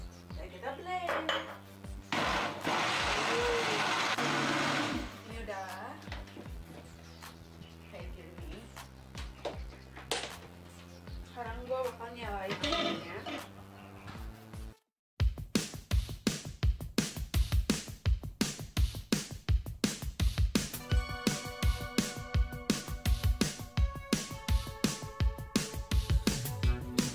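A kitchen blender whirs loudly and steadily for a few seconds, blending dried chilies with a little water for a spicy shrimp-and-petai sambal, then cuts off, followed by clattering pots, utensils and clinking dishes.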